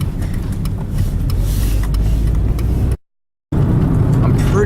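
A car drives along a rural road with a steady low engine and road rumble from inside the cabin, broken by a brief dropout, while faint clicks and shuffling sound over it.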